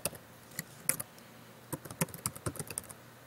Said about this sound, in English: let's go ahead and type in an email